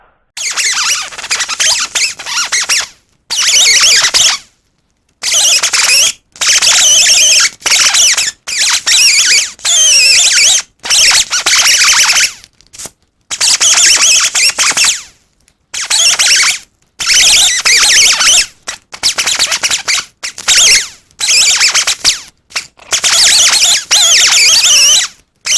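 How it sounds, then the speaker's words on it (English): Die grinder fitted with a wire wheel cleaning the brake clip contact areas on a 2012 Ford Edge rear disc brake, giving loud, high-pitched whining bursts that start and stop repeatedly, each lasting about a second or two with short silent gaps between. "Take our die grinder, a wire wheel, and we're going to clean up the area where these clips are going to ride."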